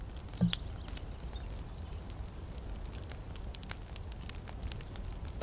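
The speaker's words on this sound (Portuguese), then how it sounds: "Rápido, senão vai acabar meu fogo." Campfire burning in the survival video game Mist Survival, a soft steady crackle and hiss with scattered faint pops, one brief louder snap near the start, no talking.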